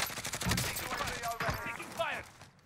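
Rapid bursts of gunfire from a Warzone battle royale match, crackling in dense volleys at close range and overlapping with in-game sounds and brief voices.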